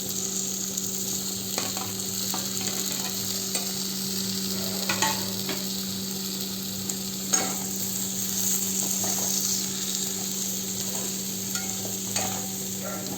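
Chopped eggplant stirs and fries in a pan with turmeric and onion-garlic masala for Marathi vangi bhaji, giving a steady, close sizzle with scattered scraping stir strokes and no talk.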